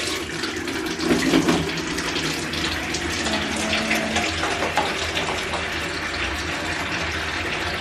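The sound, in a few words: filling a bucket with warm water from a tap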